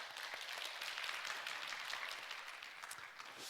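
A church congregation applauds the fathers during a Father's Day Sunday service: steady, dense clapping that holds at an even level for several seconds with no voices over it.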